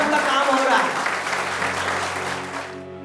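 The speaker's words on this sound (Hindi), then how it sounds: "आप सभी लोग अपने आप के लिए एक बार जोरदार तालियां" Steady applause from an audience at a diabetes awareness gathering, dense and continuous clapping that fills the space for about three seconds before tapering off at the end.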